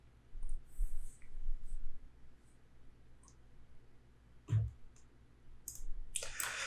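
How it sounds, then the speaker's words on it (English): Computer mouse clicking at a desk, a few faint scattered clicks followed by a louder cluster of clicks near the end over quiet room noise, with no talking. "I'm gonna click on this link."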